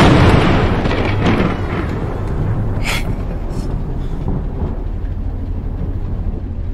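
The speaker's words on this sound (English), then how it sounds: "all it was thunder" A loud, rumbling roll of thunder in a video game, heavy and sustained across several seconds with a sharper crack near the middle before tailing off into a low rumble.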